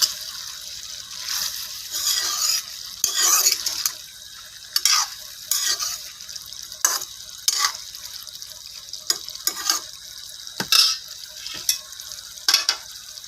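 Fried potatoes with pumpkin stems stirred in a pan: repeated scraping strokes and bursts of sizzle in an uneven rhythm, close up, with brief quieter gaps between stirs.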